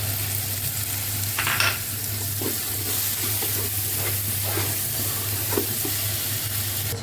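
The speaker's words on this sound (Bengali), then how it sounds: "মশলাটা কষানো হচ্ছে, এখন আমি মশলাটাকে কষাচ্ছি।" Spice paste and onion paste stir-fried in a pan for a chicken roast, a steady close sizzle with intermittent scraping stirs over a constant low hum, no talking.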